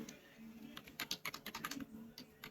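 A short burst of quick, light keystrokes on a computer keyboard, entering a one-time passcode into an online form, close and fairly quiet with no talking.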